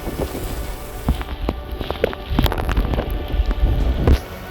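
Strong wind gusts in a thunderstorm downburst buffet the microphone loudly, surging and roaring in uneven bursts with rattling, close and continuous, no talk.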